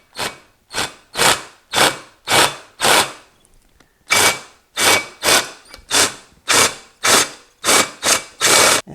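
A handheld power drill bores into a metal bracket for an Oldsmobile 455 serpentine belt conversion, running in about fourteen short, loud bursts with brief pauses between them, close to the microphone and with no talk.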